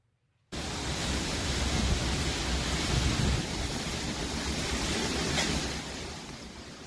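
Hurricane Otis, a Category 5 storm making landfall near Acapulco, Mexico, drives roaring wind and crashing ocean waves at night, a dense, constant roar that cuts in suddenly and eases slightly near the end.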